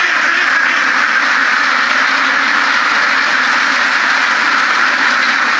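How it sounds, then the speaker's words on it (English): A dense, continuous chorus of many ducks quacking together in a flock, loud and close, with no talking. "ducks don't like to perch or do anything, just run around and quack."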